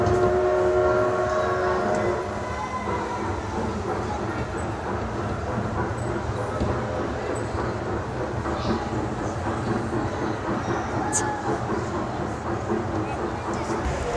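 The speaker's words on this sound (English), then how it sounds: "so I'm going to take the train" A small ride-on train carries passengers through the Meadowhall shopping centre, rumbling steadily amid a busy indoor crowd with a brief horn-like tone, while people talk throughout.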